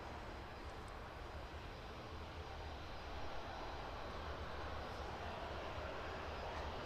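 Boeing 737-800 airliner engines at East Midlands Airport, a steady broad jet roar holding constant while taxiing onto runway 09, moderately distant with no voices.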